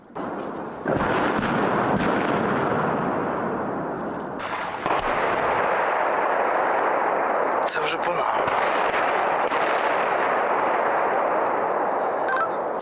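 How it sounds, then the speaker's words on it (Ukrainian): Heavy artillery shells explode in a forest, booming and echoing one after another, with low rolling reverberation between impacts and a voice speaking over the din. "У наш бік полетіли важкі снаряди. Ліс потонув у відлунні вибухів."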